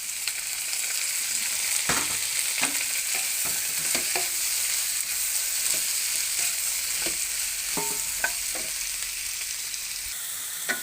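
Carrots and cabbage fry in a pan with a steady, close sizzle. Scattered clanks and scrapes of stirring break in throughout.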